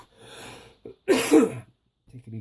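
A single close, sharp cough, preceded by a short breath, in a quiet room during a review of a Ryefield Tiger 1 tank model kit.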